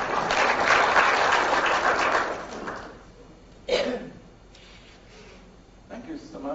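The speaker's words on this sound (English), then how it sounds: "Just give me another round of applause." Lecture-hall audience clapping in a round of applause, loud and dense for the first few seconds, then fading out, followed by a few coughs and small sounds in a quieter room.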